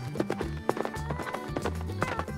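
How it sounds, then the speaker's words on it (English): Horse hooves clip-clop in a quick, steady trot under a music backdrop, a sound effect for a doll version of Cinderella where the prince rides to the kingdom. "He mounted a horse and went to the kingdom."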